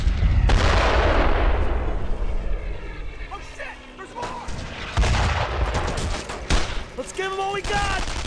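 Heavy battlefield gunfire in the World War II shooter Brothers in Arms, a dense continuous roar of rifle and artillery fire with sharp cracks, while soldiers shout over the noise.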